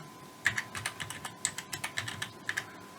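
Keystrokes on a computer keyboard while configuring a router's interfaces, a steady run of close, crisp clicks in quick irregular bursts with no talking.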